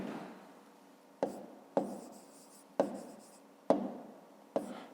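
Pen writing on paper during a fifth-grade maths exercise, with quiet scratchy strokes broken by about six sharp taps at irregular intervals, close and soft.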